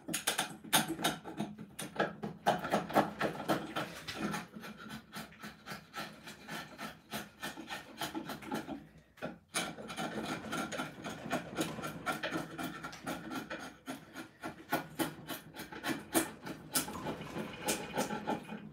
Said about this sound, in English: might well just get right on the sander right now just to deal with this